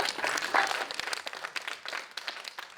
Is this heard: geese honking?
no